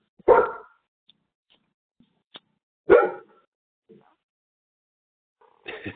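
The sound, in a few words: dog barking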